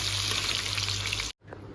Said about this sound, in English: we'll fry it till they're golden brown